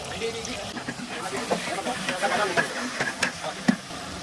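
Mustard seeds, cumin, onion and green chilli hiss and sizzle in a hot pan, a steady close frying crackle with occasional pops and stirring knocks while someone talks over it.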